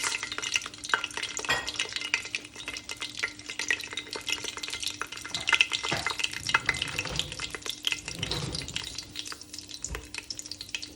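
Bay leaf, cinnamon, cardamom, cloves and peppercorns frying in oil with onion for a lamb chop curry, a steady close sizzle with dense crackles and a few scraping stirs, no voices.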